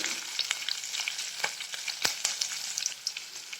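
Chopped onions fry in a pan until brown, giving a constant sizzle dotted with sharp crackles and pops, close and moderately loud.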